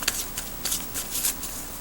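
Tarot cards shuffled by hand up close, making soft repeated riffling and flicking bursts in an uneven rhythm in a quiet room.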